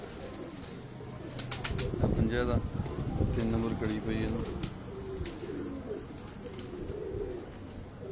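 Pigeons coo in low, rolling murmurs while someone talks over them, with a few sharp higher chirps mixed in, at a bird market.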